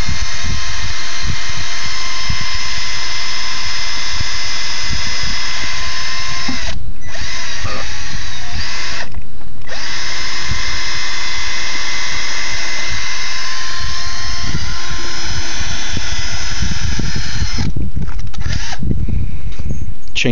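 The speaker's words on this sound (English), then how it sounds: "Pre-drill the hole." A power drill pre-drills a screw hole while a system is being fastened in place. Loud, close, high whine in long sustained runs, with brief pauses, shifts in pitch as it bites, and short bursts near the end.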